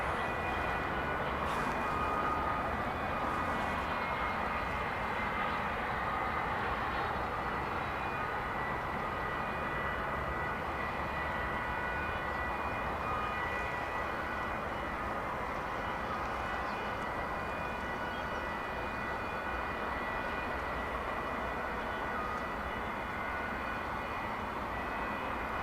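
An airplane taking off at DFW Airport, a long, even, distant jet roar that holds steady throughout with no voices.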